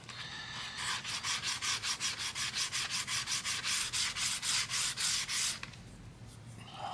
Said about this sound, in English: Whole lot of sanding.